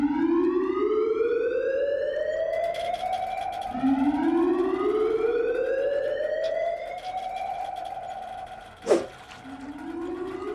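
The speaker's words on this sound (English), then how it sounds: "Sound the alarm." Wailing alarm siren on an island armory, rising and falling in long repeated sweeps, loud and continuous, with a sharp impact near the end.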